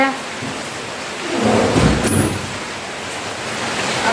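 Steady rain falls as a continuous broadband hiss at the start of a shower, with a louder swell in the middle and a faint rumble underneath.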